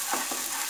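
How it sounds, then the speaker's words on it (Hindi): Onions stirred as they fry in a pan for veg Manchurian, a steady sizzle with a few soft scraping strokes of the spoon, brief and fairly quiet. "प्याज डाल देंगे। अच्छे से मिलाएंगे इन्हें।"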